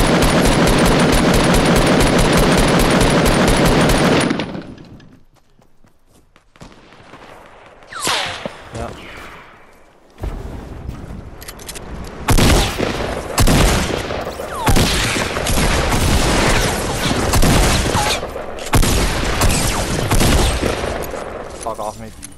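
Gunfire in a video game: a dense burst of rapid shots fills the opening seconds, then a brief lull gives way to repeated sharp blasts and bursts of fire at irregular intervals.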